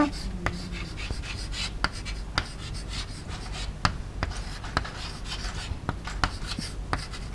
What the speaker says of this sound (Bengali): অ্যামোনিয়াম সায়ানেট, আমি লিখে দিচ্ছি নামটা।